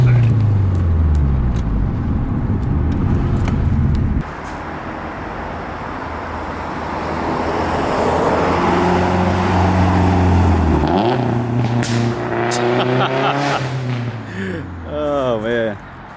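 A 2010 Subaru STI hatchback with a Nameless track pipe exhaust revs and decelerates loudly, its engine note rising and falling through downshifts with a rough, burbling exhaust; someone talks over it.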